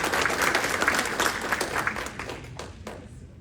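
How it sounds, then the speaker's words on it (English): An audience applauds Jim and his family as they stand, a dense burst of clapping from many hands that gradually thins and fades over a few seconds. "so we can all give you the applause"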